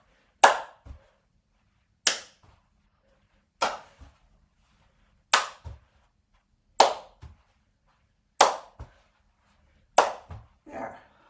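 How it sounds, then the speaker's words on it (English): Seven evenly spaced rounds of a ball toss during a floor-mat balance exercise, each a crisp hand clap followed a beat later by a softer thump as the ball is caught, close and clear in a quiet room. "So this will be a toss, clap, catch."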